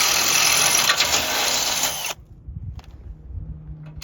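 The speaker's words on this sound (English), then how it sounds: "Then I went ahead and drilled our second holes." A power drill bores holes in a steel winch bumper for a third-generation Toyota 4Runner, whining loud and steady for two seconds before stopping, followed by quieter handling noises.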